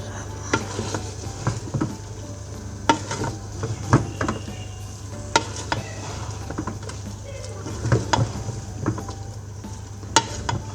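Cauliflower and meat fry together in a pot, a low sizzle broken by repeated scraping and knocking as the mix is stirred, with a person talking over it at times.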